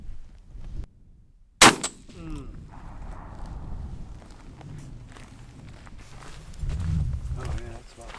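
A single loud shotgun blast firing TSS shells cracks out sharply outdoors, preceded by a brief quiet and followed by low background noise and people talking.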